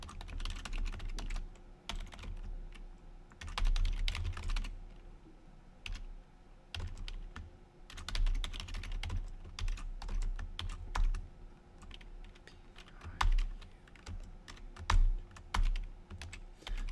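A date of birth being typed on a computer keyboard: clusters of quick, light key clicks in uneven bursts, with short pauses between runs, fairly close and without talk.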